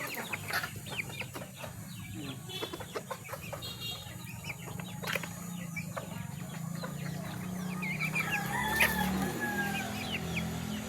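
Pet chickens at feeding time cluck and peck close by in a steady, busy scatter of short sounds, with a rooster-like call rising near the end over low background noise.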